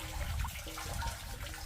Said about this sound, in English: Now I'm going to turn the water down to a trickle.